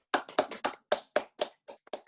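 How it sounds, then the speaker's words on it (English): Students clapping hands in a classroom: about ten distinct, fairly quick claps in an uneven rhythm, close and clear with nothing else in the background. "can you tell me how many times did you clap just now?"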